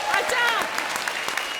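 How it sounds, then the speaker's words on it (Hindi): Studio audience applause on a Comedy Circus comedy show, a dense burst of clapping that is near and steady throughout, with a few louder claps standing out and no talk over it. "और अब कंगना के लिए जोरदार तालियां।"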